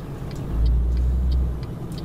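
Scania truck engine in Euro Truck Simulator 2, a steady low diesel rumble that swells slightly midway, with faint high hissing ticks at intervals and no talk.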